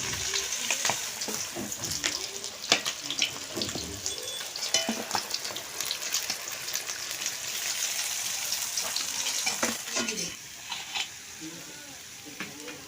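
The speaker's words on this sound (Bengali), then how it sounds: "আর একগুলো মাছ আমি তেলের মধ্যে দিয়ে ভেজে নিচ্ছি।" Fish pieces fry in hot oil for a fish curry, crackling and spitting in a steady, busy sizzle with irregular louder pops, close and without speech.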